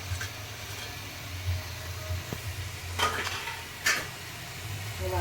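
Finely chopped capsicum goes into a hot pan for chicken pav bhaji and is stirred, giving a soft steady sizzle with a few clattering spoon scrapes against the pan, no talking.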